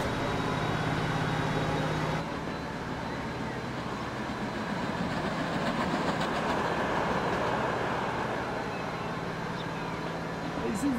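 A simulated train rumbles along continuously in the Transport Fever 2 game on a UK railway, with a steady rolling roar and faint rhythmic clatter while someone talks over it.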